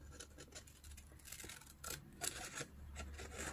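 Scissors snipping through a small paper notecard, a quiet close-up series of short scratchy cuts spaced irregularly over a few seconds with no talking.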